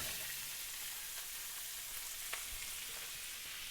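Shrimp stir-frying in a hot pan, a steady loud sizzle and hiss throughout with occasional scraping and stirring taps, no talk.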